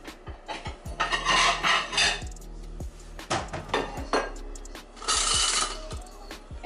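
Clattering metal and dish clinks as a seafood-stuffed lobster is lifted out of a Power Air Fryer Oven onto a plate, with scattered taps, scrapes and louder rattling bursts, close and free of talk.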